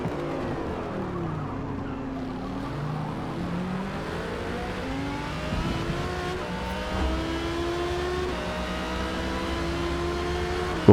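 A race car engine in a racing video game, steady loud revving that climbs through repeated upshifts, with another car close ahead, continuous and without talk.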